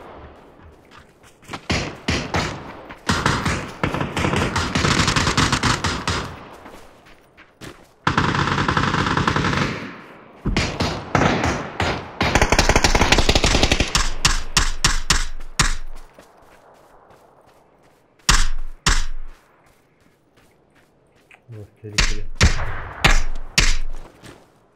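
Gunfire in the video game PUBG comes in long, loud bursts of automatic fire and single shots, split by short pauses and quieter gaps, with no talk.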